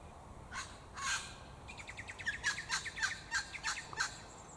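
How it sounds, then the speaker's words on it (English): A red wattlebird calls loudly among acacia and Canary Island date palms, a run of harsh, raspy squawks and chattering barks repeating in quick bursts, fairly near, with no talking. "A red wattle bird making a racket."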